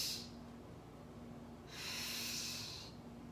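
Two soft breaths through the nose during a transverse abdominal core exercise, a short one at the start and a longer, louder inhale in the middle, faint against quiet room tone.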